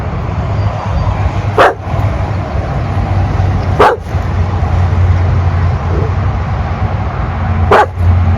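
A dog gives three sharp, separate barks a couple of seconds apart over a steady background hum, fairly close and with no talking.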